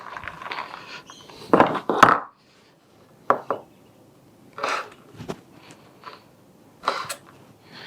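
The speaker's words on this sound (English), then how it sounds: "So we probably need to just slice most of these in half." A knife slicing dates in half on a board for a Christmas pudding, irregular crisp cuts and taps with short quiet gaps, close and clear, no speech.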